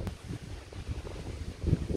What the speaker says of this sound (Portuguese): Infelizmente faz 2 dias que está ventando